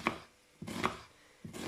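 Squid being finely chopped on a board with a knife for a Provençal stuffing, giving three separate close, crisp chops spaced well apart.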